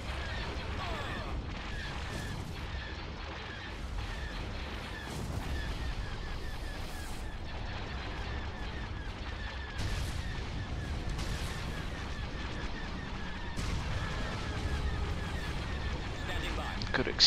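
Space battle in the video game Star Wars Empire at War with an enhanced campaigns mod, a steady dense wash of weapon fire and rumbling explosions with repeated sharp blasts throughout.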